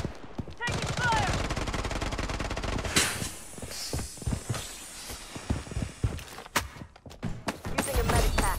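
Gunfire crackles in the shooter video game Blood Strike as a fast burst of shots, then scattered sharp cracks and impacts over a busy game soundscape.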